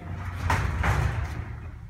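Heavy doors of an Otis traction freight elevator slide and rumble in two low, scraping surges, fairly close, with no voices over them.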